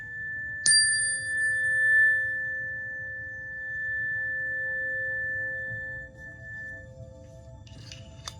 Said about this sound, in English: I'm going to be using two bells, one representing the divine feminine, one representing the divine masculine at the same time